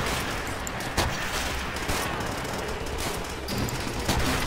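Dense, rapid gunfire in the video game Call of Duty: World at War crackles without pause, a loud, steady barrage of shots filling the whole stretch.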